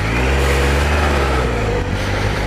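A motorcycle engine revs steadily and loudly on an unmarked forest trail, close and continuous with a slight rise and dip in pitch, no talking.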